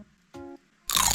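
A crunchy, realistic-looking chicken nugget keychain is bitten, giving a loud, dense crunch near the end after a brief short tone, close to the mic with no talking.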